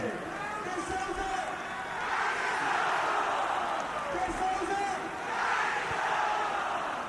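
Football fans chant in a stadium during a Fiorentina versus Inter match, a loud, rhythmic crowd chorus rising and falling in waves over continuous background roar.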